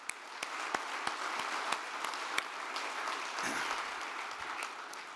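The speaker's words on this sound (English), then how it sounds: "let's give them a round of applause for this amazing event" A crowd applauds steadily for several seconds, a dense wash of clapping with a few sharper claps standing out.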